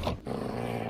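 A dog growls in a multiplayer survival video game: one short, low, fairly quiet growl lasting under a second, heard alone without talk.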